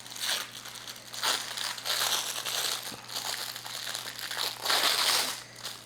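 Plastic packaging crinkles and crunches as it is cut open, in a steady run of close, fairly quiet rustles with no talk.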